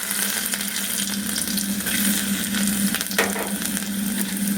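Garlic sizzling steadily in a preheated pan as veg Hakka noodles are started, a continuous bright frying hiss with a faint stir or scrape near the end, close and alone.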